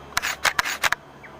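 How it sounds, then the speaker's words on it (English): The shutter of a Panasonic Lumix DMC-L1 digital SLR fires in a quick burst of about four crisp mechanical clicks within a second, close and fairly quiet, followed by near silence. "To take the picture, and I pressed the shutter button all the way down."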